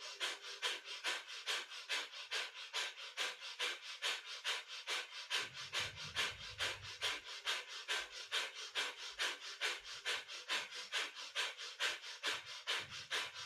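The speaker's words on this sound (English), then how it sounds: "Polish it all out with this breath of fire." Rapid yogic breath of fire during a kundalini practice: a fast, even train of sharp nasal exhales, roughly two per second, close and steady throughout with no talk.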